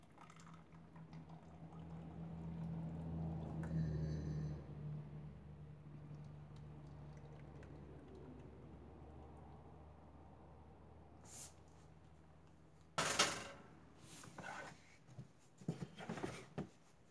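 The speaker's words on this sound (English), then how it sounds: "I'm gonna start pouring this portion into the molds." Thick coconut milk dragon's blood soap is poured from a pot into molds, a soft, faint gurgling pour followed by quieter handling knocks and clatter.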